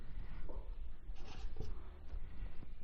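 A pen or marker scratches across a board while a trigonometry problem is worked out, a continuous close scraping of short writing strokes with brief pauses.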